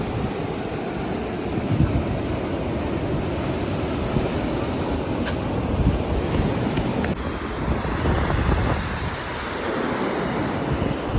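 Waves wash up on a beach as steady wind buffets the microphone, a continuous, loud roar of surf lasting several seconds with no talking.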